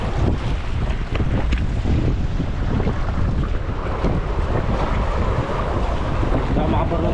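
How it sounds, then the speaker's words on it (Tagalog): Strong wind roars constantly at an outdoor fishing spot, buffeting the microphone, with a wash of water or waves underneath; no clear talk. "lakas ng hangin"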